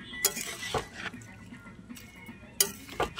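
A metal lid is set on a pot of spiced cabbage, making a few sharp close clinks and clatters separated by quiet stirring.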